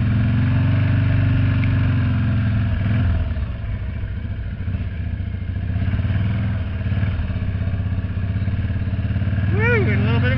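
A Harley motorcycle drifting sideways on snow, its engine loud and close with a steady rumbling roar that dips briefly and revs back up throughout.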